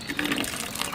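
Water runs from a household tap into a container in a steady, close rushing gush that lasts the whole moment.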